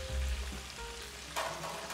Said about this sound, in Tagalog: pag naririnig mo yung mantika na medyo nagiging peaceful na, ibig sabihin yan, almost ready na yung iyong shrimps